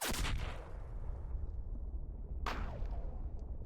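Two heavy rifle shots from a 7mm Magnum ring out at a wild boar, one at the start and another about two and a half seconds later, each a loud boom trailing into a rumbling echo.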